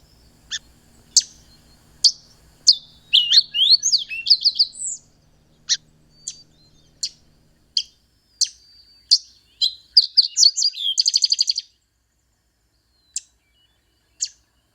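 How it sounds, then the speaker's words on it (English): Fox sparrow song: a series of short, bright chirps and warbled phrases with a rapid trill near the middle, clear and close, set against near silence with a faint low hum early on. "Here is a wee bit of the fox sparrow's song."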